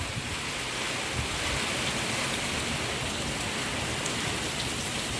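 The first monsoon rain pours down on a farm in a steady, dense hiss that fills the whole stretch, loud and even with no pauses and no voices.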